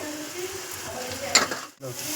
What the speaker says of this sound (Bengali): এরপর আমি কড়াইটা ভালো করে নাড়াচাড়া করে নেব